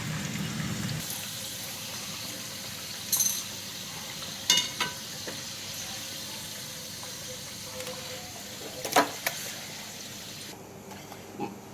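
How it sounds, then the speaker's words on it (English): Potatoes frying in oil for tandoori aloo give off a steady, moderate sizzle with a hissing wash. A few sharp clinks and scrapes of stirring or lifting stand out now and then, and nobody speaks. "My potatoes are fried and now we'll stuff them."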